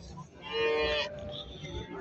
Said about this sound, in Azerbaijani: Kardeşim bak belə bir inək var.